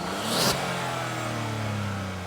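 Peugeot 208 GT Line 110 hp engine revving through its fairly large exhaust, a steady mid-pitched drone with a brief swell near the start, heard close up with no talk.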